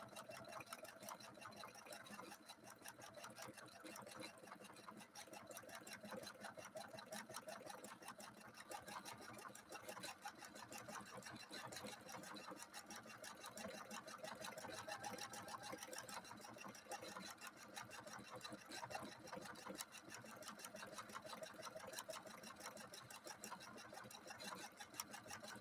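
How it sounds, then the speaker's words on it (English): Husqvarna Viking sewing machine stitching light woven fabric, a steady fast mechanical whir and patter running unbroken at moderate volume for the whole stretch, with no talk over it. "we're sewing on a light woven material, and the machine makes all the other choices for us"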